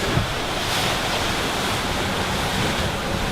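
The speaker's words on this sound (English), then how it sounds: "Occasional big waves splashing up, but that's it." Ocean waves slosh and splash against a sailboat crossing the Atlantic, a steady close rushing wash with wind noise and no voices.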